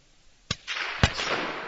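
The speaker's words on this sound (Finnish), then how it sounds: "Siitä lähti ensimmäinen laukaus" Two sharp rifle shots at a Finnish moose target shooting competition, about half a second apart, each a crisp crack followed by a short outdoor echo.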